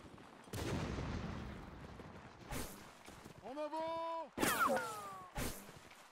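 Musket volleys crack through a Mount & Blade Napoleonic line battle, several sharp reports landing among shouting, talk, and in-game bugle or horn calls.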